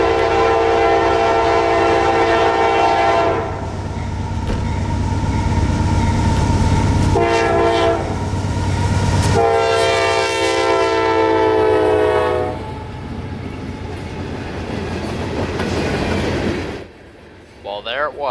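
A CSX freight train led by an AC4400CW locomotive passes in Florida, sounding several long, loud, close horn blasts over a rolling rumble and clatter of railcars that fades near the end.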